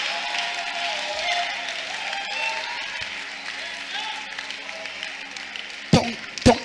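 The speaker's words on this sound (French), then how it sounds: "Ton applaudissement," Audience applause at a testimony gathering, a steady wash of many hands clapping under a voice, with two sharper bursts of nearby claps near the end.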